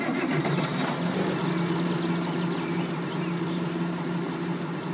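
The engine of an IH Series 86 tractor in Farming Simulator 2013 turns over and settles into a steady, loud, rumbling run, heard close and alone.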